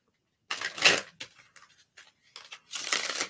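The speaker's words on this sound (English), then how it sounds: "We need 2 more shuffles on the deck" A deck of playing cards being shuffled by hand, a few quick close riffling and crinkling bursts separated by short gaps, no talking.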